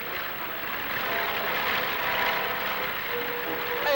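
A steady aeroplane engine drones through an animated Tintin adventure set around L'Île Noire, a continuous mid-loud whir that swells slightly toward the end, with no voices over it.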